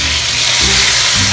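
Garlic sizzles in a hot pan while pancit bihon is cooked, giving a steady close hiss for a brief moment with a low hum underneath.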